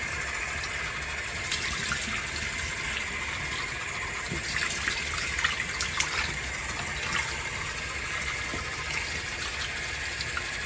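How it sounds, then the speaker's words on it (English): Warm water runs steadily while hair is rinsed, a continuous gushing splash from a tap with faint irregular spatter, no speech. "Then you rinse that off. Once again, warm water, not really hot."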